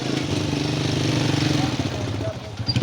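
A motorcycle engine buzzes close by, a steady mid-pitched putter that swells and then fades as it passes, with voices talking over it.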